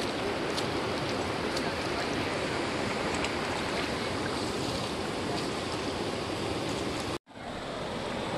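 River water rushes steadily at Garner State Park, a broad, even wash of flowing sound heard up close that cuts out briefly near the end.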